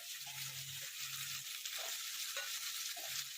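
Boiled potatoes are sautéed with peanuts and green chillies over low heat for sabudana khichdi. A steady, soft frying hiss runs throughout, with light stirring scrapes now and then.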